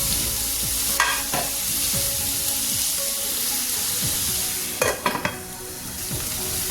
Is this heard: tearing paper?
no